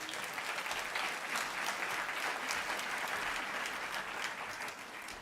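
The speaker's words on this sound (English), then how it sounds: "Give Alistair a round of applause." An audience at the SNP party conference claps warmly, a steady wash of applause that holds evenly for several seconds before easing slightly.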